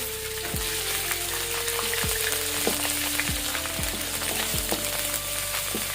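Fish with red curry paste stir-frying in a pan, a dense, constant crackling sizzle close by, with faint repeated scrapes of a spatula running under it.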